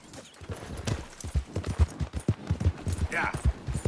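Horse hooves clip-clopping in a PS4 video game, a quick, steady trot of close, dull thuds running throughout, with a voice talking over it.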